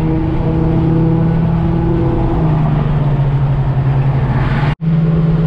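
A car cruises on a highway, a loud steady engine drone and road roar heard from inside the cabin, with a brief dropout near the end.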